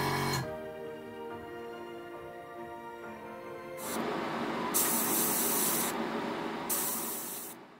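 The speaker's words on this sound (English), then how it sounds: "spraying very lightly over the mottling" An airbrush sprays intermediate blue paint over the surfaces of an Italeri 1/12 Bugatti Type 35B model car, a soft steady hiss that grows louder midway and pulses in short bursts toward the end.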